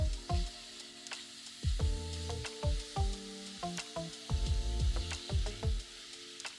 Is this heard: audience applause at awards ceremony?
no